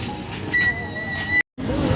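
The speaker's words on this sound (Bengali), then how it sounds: "এই যে শুধু ড্রাগন ট্রেনটা চলছে" A dragon train ride at the Singur fair in Hooghly runs with steady rumbling mechanical noise and a sustained high whine, a brief cut near the end, then the running noise resumes.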